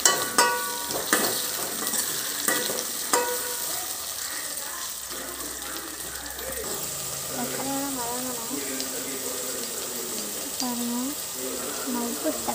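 Tomatoes sizzling and frying in a pan as the base for a Tamil-style fish curry, a soft continuous crackle with occasional stirring taps, then a voice talking over the cooking.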